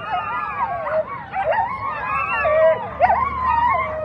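An excited pack of sled dogs at the Fur Rondy Open World Championship start line keeps up overlapping howls, yips and barks, loud and near, with sharp bursts as the chorus swells.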